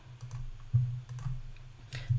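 Computer keyboard keys and a mouse click in a quick irregular patter, close and fairly soft, with no voices.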